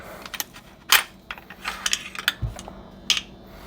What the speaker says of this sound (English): The receiver itself, let's pull the bolt out.